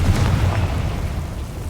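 A Confringo blasting spell erupts in the Hogwarts Legacy video game as a loud, rumbling explosion that holds steady and slowly fades across the short stretch.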